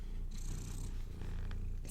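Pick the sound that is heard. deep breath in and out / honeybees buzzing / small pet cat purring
small pet cat purring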